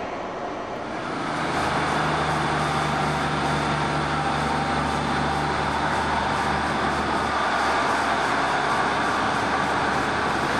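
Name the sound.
train moving out at Bristol station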